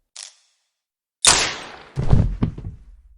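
In a mystery drama set at a mansion, a sharp crack of a gunshot rings out followed by a decaying boom, then a cluster of further thuds and bangs, with a tiny click beforehand.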